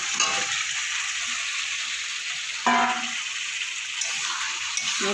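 Chopped bottle gourd pieces drop into a pan of spices and a little water, bringing a loud sizzle and a brief clatter of stirring partway through, then a steady hiss.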